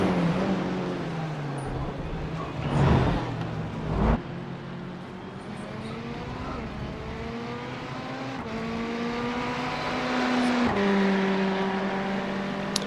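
Simulated race car engine from iRacing at Spa-Francorchamps, a continuous buzzing drone that rises and falls through gear changes and braking, with a commentator talking over it.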